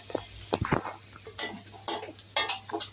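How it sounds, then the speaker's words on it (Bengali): Onions are fried in a pan for a chicken roast, a utensil stirring and scraping with several sharp clinks against the pan over a faint sizzle, close by. "তো এখন একটু পেঁয়াজ দিয়ে দিলাম, পেঁয়াজগুলো বেরেস্তা করে তুলে নিব।"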